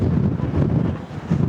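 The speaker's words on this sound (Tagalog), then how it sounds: "Lakas ng hangin." Strong wind buffets the microphone on the summit of Fansipan, a continuous low, gusty roar that swells and dips slightly, with no voices.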